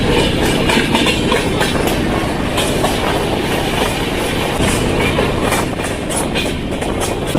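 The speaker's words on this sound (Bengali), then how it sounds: "আমাদের ট্রেনটি এখন হাই স্পিডে চলতেছে, 125-130 স্পিডে চলতেছে।" Passenger train running at high speed from New Delhi toward Chennai, heard from inside as a loud continuous rumble with rhythmic clickety-clack of wheels on rail joints and steady roaring noise, no talking.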